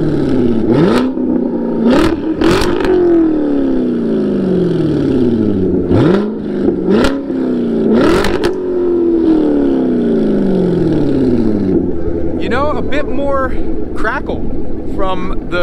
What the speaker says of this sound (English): let's rev up my Grand Sport and see what happens.